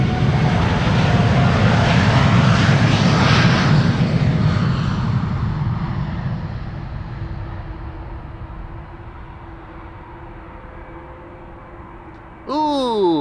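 An American Airlines Boeing 787 Dreamliner's engines roar loudly on departure from Amsterdam Schiphol Airport, then slowly fade into a lower, steady hum, with a brief sharp noise near the end.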